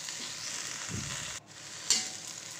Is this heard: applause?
no